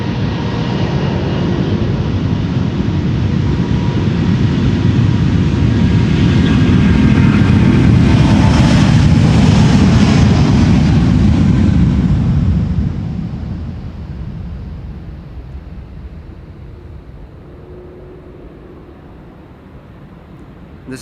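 A Delta Air Lines Airbus A350-900 takes off, with a loud, roaring jet-engine rumble that swells to a peak. The roar then fades as the aircraft climbs away. No voices can be heard over it.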